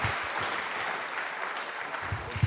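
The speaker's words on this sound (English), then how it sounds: "another big round of applause" A large conference audience at a national policy plenary session applauds in a steady, dense wash of clapping, moderately loud and sustained without talk.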